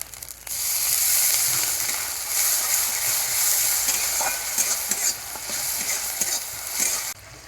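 Ground cumin, coriander and ginger paste frying in a pan with onion and garlic, a loud continuous sizzle with scraping stir strokes close up, ending abruptly.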